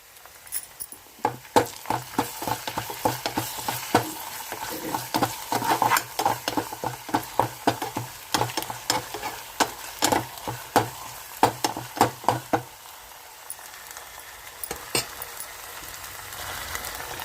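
Ginger garlic paste frying with onions in a pan for smoky chicken tikka biryani: a soft sizzle under many sharp, rhythmic scraping and stirring strokes, with a quieter pause near the end.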